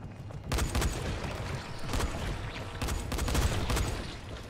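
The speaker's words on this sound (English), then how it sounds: "You guys hear gunfire" Video game gunfire in sustained bursts, a dense crackling fusillade of rapid shots with several louder volleys spaced a second or so apart, fairly close and continuous.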